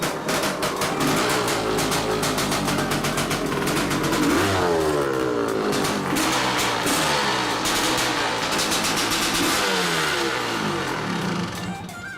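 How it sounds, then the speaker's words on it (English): A very loud motorcycle with a worn, poorly packed muffler fires up and revs hard, its rough, clattering exhaust roaring close and steady throughout, with throttle swells rising and falling and no talk over it. "Quite possibly the loudest motorcycle I've ever owned at this point."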